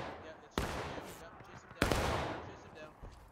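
Two loud, close gunshot volleys ring out in the Civil War shooter War of Rights, each crack followed by a decaying rumble, with scattered distant shots between.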